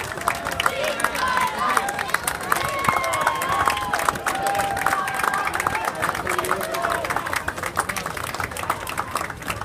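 A crowd at a Greek Independence Day parade in Boston claps and cheers in a steady, dense wash of applause and chatter, with an announcer's voice carrying over it.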